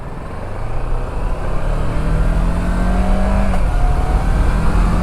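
A Kawasaki Versys 650 motorcycle engine on a test ride, a steady loud drone whose pitch rises and shifts as it revs and accelerates, with wind rush underneath and no talk.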